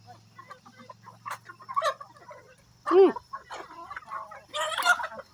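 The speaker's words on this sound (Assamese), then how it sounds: "এইখন ফাৰ্ম এখন মুৰ্গী ফাৰ্ম" Hens clucking and squawking close by in short bursts, with a low steady hum underneath and faint voices in the background.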